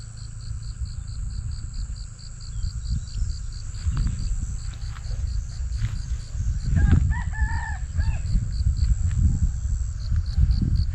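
A rooster crows in the middle distance over a constant high chirring of insects, with rustling and low wind noise, on a morning in Xaisomboun, Laos.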